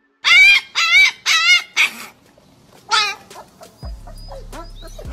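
A husky lets out a string of dramatic whining yowls and yips, four quick cries in a row and then one more, loud and close, before the room falls mostly quiet.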